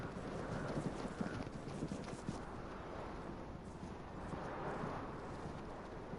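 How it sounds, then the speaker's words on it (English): Footsteps crunch repeatedly in the survival shooter Vigor, a steady close rhythm of treads over a rough outdoor surface beneath a constant windy background. "You hear every little footstep."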